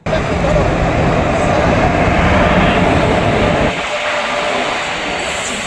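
Steady loud rumble of a train at a railway station, continuous throughout, easing slightly partway through.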